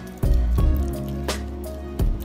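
Cauliflower pieces being stirred into a wet black batter for Halloween buffalo wings, giving a few distinct wet squishing slaps spaced about half a second to a second apart, close up.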